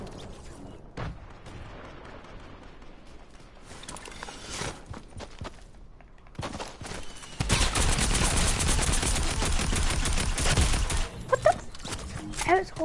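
Rapid automatic gunfire from a John Wick-style video game shooter, a dense loud burst of continuous shots in the latter half after scattered single shots and mechanical clatter, with a voice talking over parts of it.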